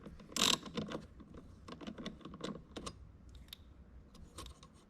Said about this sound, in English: you just loosen it up a little bit, and then obviously you can just unscrew this nut